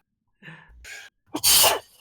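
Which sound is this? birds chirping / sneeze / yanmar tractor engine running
sneeze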